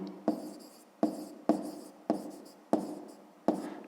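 Pen writing numbers by hand for a fifth-grade math exercise: six short scratchy bursts of strokes at a steady pace, close and clear, with no talking.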